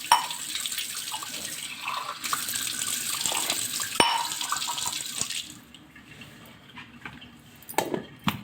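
Water pours steadily from a tap or jug for several seconds, loud and continuous, then tapers off into a few scattered drips and splashes, with no voice over it.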